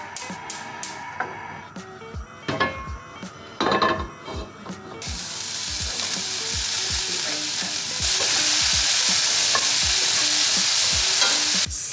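Cabbage and peppers sizzle and fry steadily in a pan, with a spoon stirring and scraping through them in repeated knocks and scrapes; the hiss builds louder and fuller midway and holds close and continuous.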